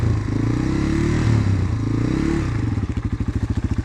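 A dirt bike engine climbs uphill under light throttle, a loud close rumble that steadies and then breaks into rapid pulsing chugs as the throttle opens, with some clatter and thumps from the bike.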